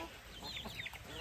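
Faint backyard chickens cluck softly, with a few short, overlapping calls in quick succession at a farm coop.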